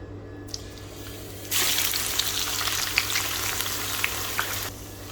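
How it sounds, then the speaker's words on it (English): Sliced onions frying in hot oil: after a quiet start, a loud close sizzle bursts in and crackles steadily with small pops, then cuts off near the end. "we are continuing to fry these onions"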